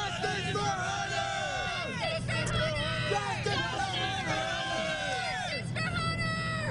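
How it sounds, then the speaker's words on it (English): A protest crowd in Lonoke County calls out a repeated chant demanding justice for Hunter, loud, rhythmic and rising and falling with overlapping voices above a steady hum. "You can hear them out here now chanting justice for Hunter."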